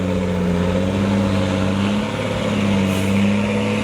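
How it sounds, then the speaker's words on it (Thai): A 22-wheel trailer truck climbing a steep pit holds a loud, steady engine drone at full throttle, deep humming tones wavering slightly, close by with no talk. "มาเร่งเครื่องมาเต็มพิกัดเลยฮะ"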